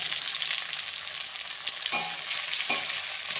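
Chicken pieces and leaves fry in very hot coconut oil, giving a loud, steady, dense sizzle throughout with a couple of brief stirring clatters and no voices.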